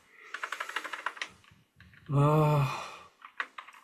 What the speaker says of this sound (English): he's going to be typing